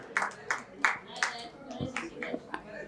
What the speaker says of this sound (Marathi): शिक्षकांसाठी आपण नक्कीच टाळ्या वाजवू शकतो